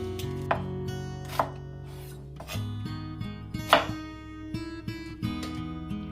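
A knife chops through onion on a cutting board in several crisp, separate strokes, close and clear over faint low background music.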